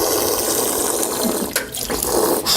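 Water running steadily from a drinking fountain in a college hall restroom, a close, continuous splashing stream with slight shifts in flow, no talk.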